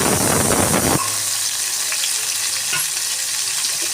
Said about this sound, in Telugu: ముందుగా ఆనియన్స్, టమాటాలు వేసి కొద్దిగా మగ్గనిచ్చుకోండి.